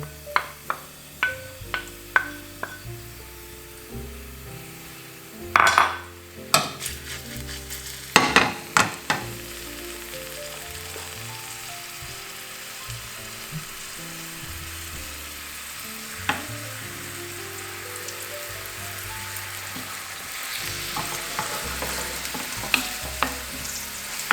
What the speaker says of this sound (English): let's add in the onions and the garlic